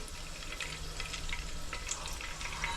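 Green chilies sizzle and crackle steadily in a hot pan while roasting for a Kolhapuri chicken white broth, a continuous dense frying hiss with scattered sharp pops and no voices.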